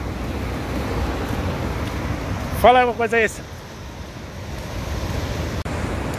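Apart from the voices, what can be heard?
rough sea waves at São Conrado beach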